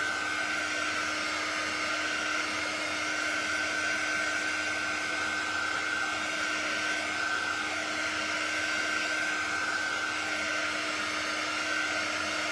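A hair dryer blows steadily and loudly at close range over a fall floral craft project, an unbroken whir with a constant motor tone throughout.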